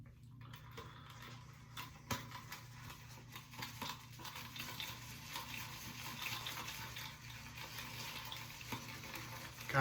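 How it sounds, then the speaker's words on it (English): Proraso shaving cream is worked into a lather with a wet shaving brush, a soft, continuous wet swishing and crackling of foam, faint and close, with no talking. "I'm gonna go ahead and soak this brush real quick and then we'll start lathering"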